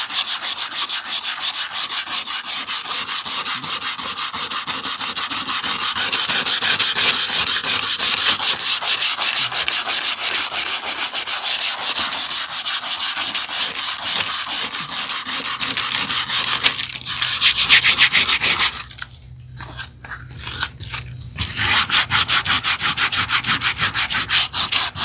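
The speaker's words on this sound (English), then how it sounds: "So let's come in and sand it here." A painted Easter decor piece is sanded by hand with steady rapid back-and-forth rubbing strokes, close and loud, with a brief pause near the end before the sanding resumes.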